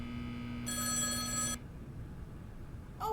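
Telephone in the video game The Stanley Parable HD Remix rings once with a bright electronic trill over a low background hum, then falls quiet before a short sound at the end.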